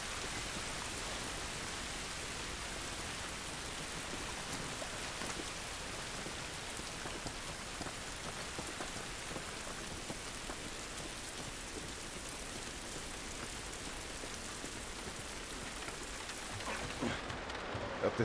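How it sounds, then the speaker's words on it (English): Steady rain falls outdoors in The Last of Us, a dense and even hiss of drops that goes on for the whole stretch. The rain is heard alone, with no voices over it. "It's raining, but it isn't good."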